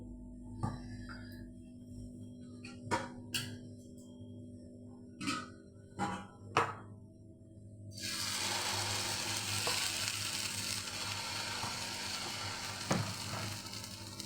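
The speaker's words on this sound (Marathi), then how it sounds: "आता आपण बेटर सोडू" Rava (semolina) uttapam batter hitting an oiled hot tawa bursts into a loud, continuous sizzle about halfway through, after a stretch of quiet clinks and taps from the pan.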